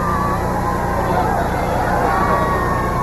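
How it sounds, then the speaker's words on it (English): Crowd hubbub along a New Year's Day Mummers string band parade route, a steady dense murmur of many voices with a bright tonal hum over it, constant and moderately loud throughout. "And listen to this crowd. They are enjoying their presence as well."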